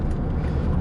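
A loud, deep, throaty Chevrolet Silverado 5.3 V8 engine rumbles continuously with raw, unmuffled straight-pipe dual-tip exhaust noise dominating the low end, close up.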